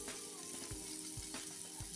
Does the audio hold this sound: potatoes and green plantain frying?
yes